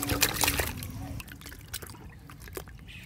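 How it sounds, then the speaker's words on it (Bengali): Monkey jackfruit is rinsed in water close by, with splashes, trickling and drips that are busier at first and then thin out to scattered drops. "প্রথমে ডৌয়াটি ধুয়ে নেবো।"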